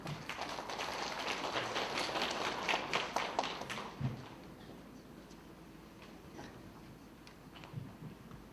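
An audience at a 2018 Busan atopy and asthma prevention program results meeting claps for a presenter, a fairly quiet burst of many hands that lasts about four seconds and then dies away into a near-silent hall.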